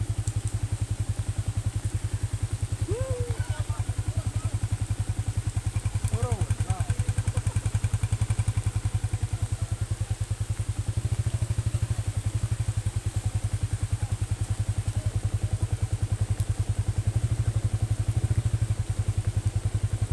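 A motorcycle engine runs continuously while the bike rides a slick, muddy school road in PALI, with a steady low drone, occasional clatter and thumps, and voices talking faintly in the background.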